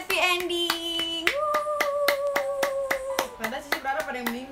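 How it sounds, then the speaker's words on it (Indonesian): A few people clap in quick steady rhythm at close range while a voice sings or hums sustained notes over the claps. "Tepuk tangan semuanya"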